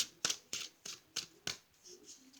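Tarot cards being shuffled by hand, a series of five or six crisp riffling bursts in an even rhythm, close and fairly quiet.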